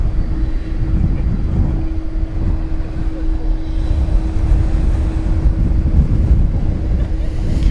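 A plane taking off at DFW Airport, heard as a broad steady roar with rushing wind noise across the whole stretch, a faint constant whine above it, no speech.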